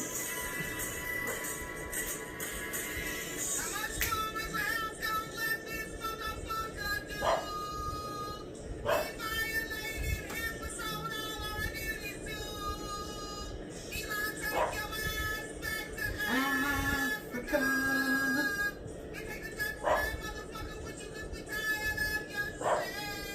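A dog makes repeated yips, whines and barks over a busy, noisy background with some voices mixed in.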